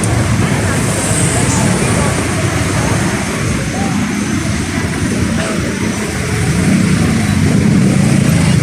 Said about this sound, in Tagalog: Traffic guys, traffic.